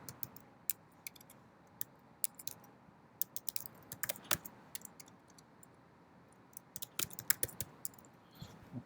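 Quiet computer keyboard typing, a series of sparse, light key clicks at an irregular pace with brief pauses, entering author names into a reference database search field; no one speaks.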